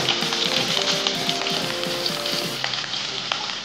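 Long-sliced onion dropped into hot oil where mustard seeds have already popped, sizzling and crackling loudly and steadily at close range with faint stirring, no voices.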